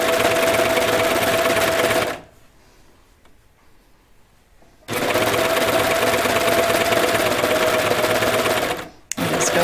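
Serger running a cover stitch on knit T-shirt fabric, a loud, fast, even mechanical whir that stops for a few seconds of near silence, then starts again and runs on with a brief break near the end.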